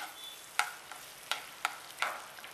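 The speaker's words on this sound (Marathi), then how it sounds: "आलं लसूण तेल आपलं तापलेलं आहे. आलं लसूण टाकूया." Chopped ginger and garlic frying in hot oil for homemade Gobi Manchurian, a soft steady sizzle broken by a few sharp scraping clicks of a spatula against the pan.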